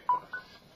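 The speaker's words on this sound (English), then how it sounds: "And that's my phone again." A mobile phone gives two short electronic tones in quick succession, close and clear against a quiet room.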